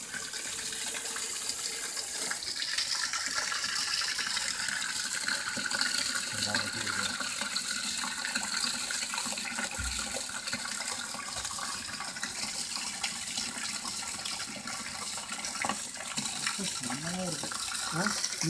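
Water steadily fills and spills over in a rice and wheat washer, a continuous rushing, gurgling stream. A few faint thumps and a short warble sit under the flow near the end.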